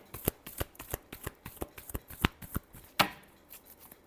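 A deck of tarot cards is shuffled by hand, a fast run of crisp riffling snaps in a steady rhythm ending in a longer ruffle and a few light taps, close and fairly quiet with no speech.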